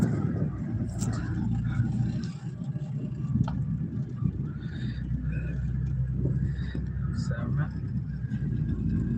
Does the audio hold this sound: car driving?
yes